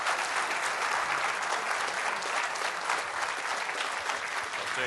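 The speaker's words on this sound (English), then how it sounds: "let's have a big round of applause for Dr. Will Happer." Sustained applause from an audience in a conference ballroom for a speaker, steady and dense throughout with no talk over it.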